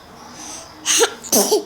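Two quick, sharp sneezes close together, fairly near, with a faint hiss before them.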